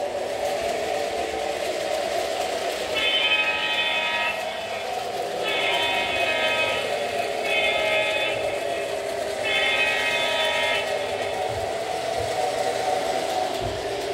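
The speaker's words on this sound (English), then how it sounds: "And now the main line train will start up." A model main line train on a wall-mounted PLC-controlled layout starts up and runs with a steady whirring motor drone, joined by four short repeated tonal horn-like blasts in the middle; no one speaks.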